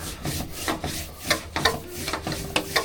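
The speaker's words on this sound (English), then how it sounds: "There's a fair bit of grinding. Grind all of that." An angle grinder or abrasive tool works rust on the body of a 105 series Land Cruiser, giving repeated short rasping, scraping strokes in an uneven rhythm, close and fairly loud with no talking.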